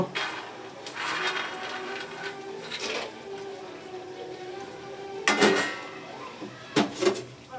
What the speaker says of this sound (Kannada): ಸ್ವಲ್ಪ ಕಡಲೆ ಬೀಜ ಹಾಕ್ತಾ ಇದ್ದೀನಿ, ಎಸೆದು.